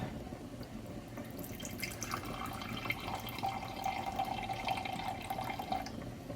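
Pineapple juice pours in a steady trickling stream into a measuring cup, the liquid gurgle building over several seconds without any talk.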